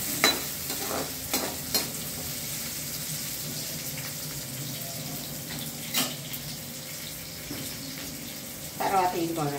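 Chopped onion cooks in a pan as it is stirred and tapped with a spatula, giving a soft continuous sizzle broken by several sharp clacks and scrapes, with a brief trickle of water near the end.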